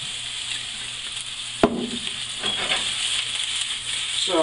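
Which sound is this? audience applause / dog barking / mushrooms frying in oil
mushrooms frying in oil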